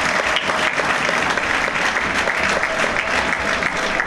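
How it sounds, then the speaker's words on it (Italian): Sustained stadium applause for Andrea Luci, captain of US Livorno 1915, as he salutes the fans at an Arezzo–Livorno match: a thick, continuous roar of many hands clapping, steady and loud throughout. "Meritati questi applausi di Andrea Luci, capitano dell'US Livorno 1915 che saluta il pubblico."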